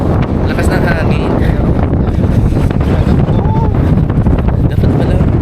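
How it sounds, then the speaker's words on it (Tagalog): Strong wind batters the microphone outdoors near the water in Cozumel, a loud continuous rumbling roar with gusty buffeting, while people talk over it. "Lakas ng hangin."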